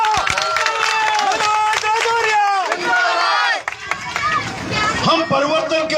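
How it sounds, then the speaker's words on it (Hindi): Crowd at an outdoor BJP rally in Nadoti, Rajasthan, loud and continuous with shouting and cheering voices, brief dips, and broadband noise consistent with clapping under the din. "उनका ताली बजा करके स्वागत करिए।"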